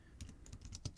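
Someone types a command on a computer keyboard to query a network switch, a quick run of soft, close key clicks at an even pace with no voice over them.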